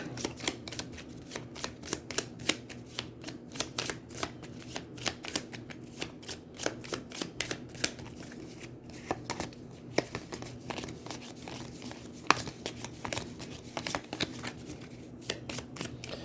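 Playing cards for the board game Aeons End are shuffled repeatedly, a steady run of soft riffling and flicking clicks, close and fairly quiet.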